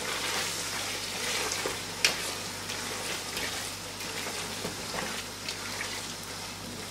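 Mutton meat dropped into ground masala and stirred in a cooking pot, a steady close sizzle and wet stirring with a few sharp scraping clicks, no talking.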